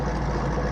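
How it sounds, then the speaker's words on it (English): Toyota MR2 engine idling steadily after its surging has stopped, a low, even hum held close and alone with no voices over it. "That's why it's idling now when it wasn't before."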